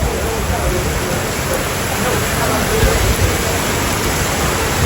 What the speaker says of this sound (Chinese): 哇，这雨有点吓人了